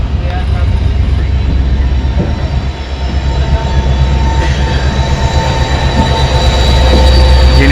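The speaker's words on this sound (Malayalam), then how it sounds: "ട്രെയിൻ ഇവിടുന്ന് എടുത്തുട്ടാ, ഡിപ്പാർട്ട് ചെയ്തു." A passenger train hauled by a WDP 4D diesel locomotive pulls away, heavy continuous rumble and clatter of wheels on rails heard up close from on board, loud and steady throughout.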